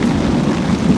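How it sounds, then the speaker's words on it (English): A low, sustained rumble of thunder rolls through heavy rain at a campsite with a pop-up camper and canopy. The burst is loud and lasts about a second. "There we got some thunder."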